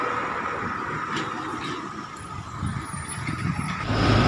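A bus or heavy road vehicle rumbles close by while pulling in and stopping, its engine growing louder toward the end, with a faint hiss of brakes.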